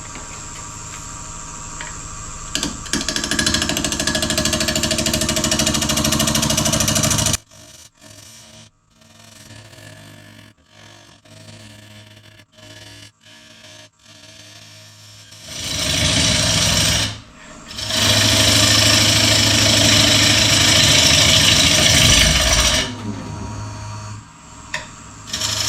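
A woodworking tool rasps loudly against a wooden piece for a wedding cake stand as it is rounded and a tenon is cut, steady grinding runs broken by a quieter stretch of lighter scraping, with no talking.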